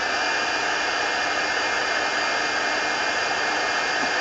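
A hair dryer blows steadily to dry paint marker ink, producing a loud, constant close-up whoosh of rushing air with no break for the whole stretch.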